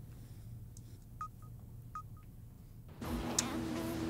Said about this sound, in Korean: 저희 감독님 전화 안 받으시는데 말입니다. 그럼 박 감독한테 한번 해봐.